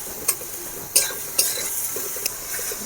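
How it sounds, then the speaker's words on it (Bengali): Spice masala with cumin, turmeric, Kashmiri chilli powder, salt and chopped tomato fries in a pan, a soft steady sizzle broken by a few sharp scrapes and clinks of a spoon stirring against the metal. "ভালো করে মশলাটা ভেজে নেব।"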